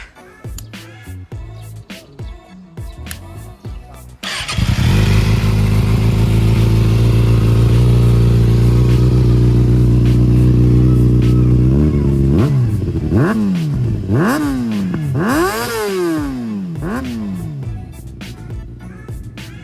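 A Kawasaki ZX-6R sport motorcycle engine idles, then revs in a long steady roar before several sharp throttle blips rise and fall in quick succession, loud and close.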